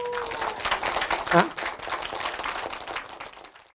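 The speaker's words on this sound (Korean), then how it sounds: "박수 한번 쳐야 되는데." Audience applause during a Korean radio lecture by a former science and technology minister, a dense steady patter of many hands lasting a few seconds and fading out at the end, with a brief voice surfacing partway through.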